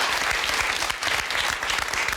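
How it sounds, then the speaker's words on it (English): Dense, steady applause from a television talk show studio audience fills the whole stretch, loud and continuous with no pauses. "Wonderful applause"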